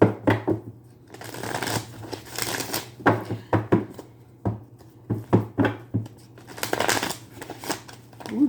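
Tarot cards, worn and a little weary, riffled and shuffled by hand in repeated quick bursts with short pauses between, close and fairly loud over a steady low hum.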